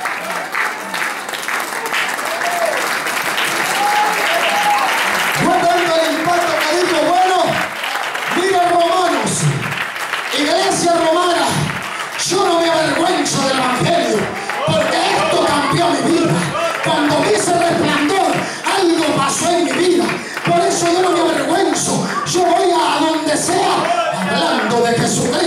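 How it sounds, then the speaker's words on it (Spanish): A church congregation stands and gives a long, loud round of applause to the Lord, many hands clapping steadily while voices shout and call out over the clapping throughout. "Póngase de pie y dale un fuerte aplauso al Señor en esta hora."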